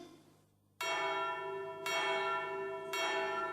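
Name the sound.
bell being rung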